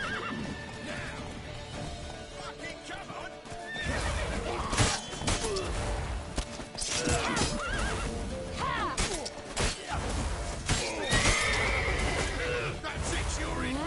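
A horse in The Witcher 3: Wild Hunt neighs and whinnies amid game action, with clip-clop hooves, scattered crashes and raised voices over a dense, loud mix.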